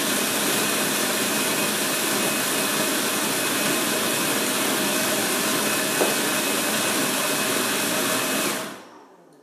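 A food processor grinds almonds into a fine dough-like crumb, a loud steady whirring roar that runs continuously for several seconds and then cuts off abruptly as the motor stops.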